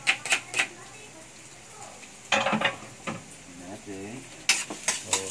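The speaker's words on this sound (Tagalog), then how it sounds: "So, kapag saute, ganyan-ganyan lang siya." Garlic sautéing in a pan for a nachos dish, a steady low sizzle broken by scraping and clinking stirring strokes, heard under a person talking.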